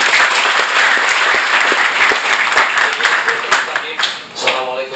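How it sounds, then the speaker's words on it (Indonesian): An audience applauds students with dense, sustained clapping, loud and close, fading slightly toward the end. "tepuk tangan untuk mahasiswa"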